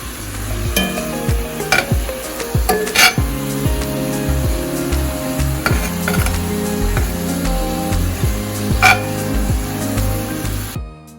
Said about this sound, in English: I went ahead and drained, not rinse, but drained my penne pasta, and then I went ahead and sauteed all of my peppers and onions